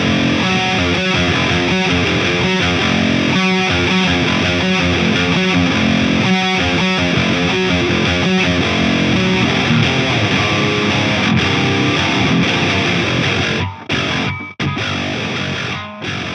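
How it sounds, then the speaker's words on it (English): High-gain distorted electric guitar tuned to drop F, played through a Mercuriall amp sim on the player's signature guitar, with loud chugging palm-muted riffs in tight rhythmic bursts, then sustained chords broken by abrupt stops near the end. "I think the high gain tones sound pretty sick, especially in drop F with my signature guitar"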